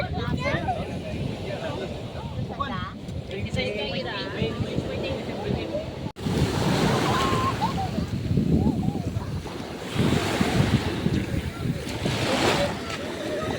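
Ocean surf rolls and sloshes along a beach with wind buffeting the microphone, the waves partly masked by people chatting nearby throughout.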